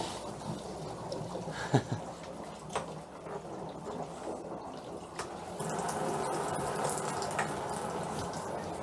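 Constant rushing and gurgling of water draining through house plumbing during winterization, with a few faint clicks and drips, growing slightly louder midway.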